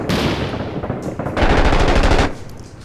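Rapid automatic rifle fire from the video game Six Days in Fallujah, loud and close, comes in two sustained bursts with a brief gap between them. There is no talk.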